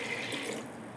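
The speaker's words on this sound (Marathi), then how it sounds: "त्याच ग्लासनं आपण यात 2 ग्लास पाणी टाकून" Two glassfuls of water poured from a drinking glass onto rinsed lentils for Maharashtrian puran poli give a soft, steady splashing trickle, faint and close, with no talking.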